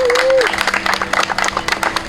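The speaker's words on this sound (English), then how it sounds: "So we all give a big round of applause for our secretary." Applause from an audience at a church spring meet, dense clapping across the whole short stretch, fairly loud and close, with a brief tone sliding in at the start.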